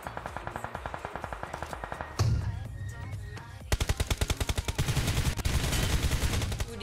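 Rapid automatic gunfire in the PUBG video game on the Sanhok map, hitting the player: a steady run of fast, evenly spaced shots, then a louder, denser burst of close, heavy firing.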